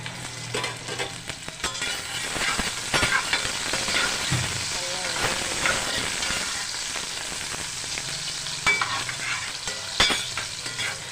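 Onions sizzle and crackle steadily in hot oil, with scraping and stirring noises throughout, close and continuous, with no talking.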